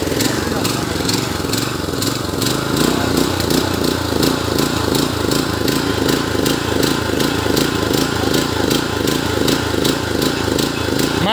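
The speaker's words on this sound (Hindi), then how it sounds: "देखिए स्टार्ट हो चुका है हमारा ट्रैक्टर।" A farm tractor in an Uttarakhand village, just started, runs with a steady, close, rhythmic engine chug that carries on evenly throughout, with some voices over it.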